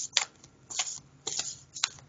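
A deck of playing cards is shuffled in four quick, soft riffling bursts spaced evenly apart, heard close and fairly quiet with no talking.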